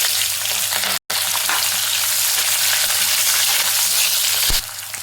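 Two onions and four green chilies fry in a pan, a loud, close, steady sizzle broken by one brief dropout, with occasional stirring scrapes and no voices.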